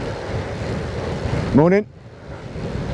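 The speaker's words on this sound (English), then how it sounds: "Boy, it's certainly windy. I'm fighting against the wind today" Steady wind rushes and buffets against the microphone throughout a bike ride at Norbury Park, with a person briefly calling out a greeting partway through.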